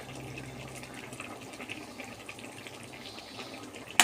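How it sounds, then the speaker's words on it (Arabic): Broth poured into a pot of raw spinach topped with a bit of coriander, a steady close splashing pour with no talk. "هحط لها شوية شوربة، مش هحط لها مية"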